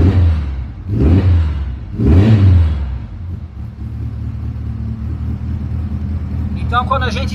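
Car engine on a FuelTech-tuned setup revving twice in quick loud blips, then settling back to a steady idle rumble.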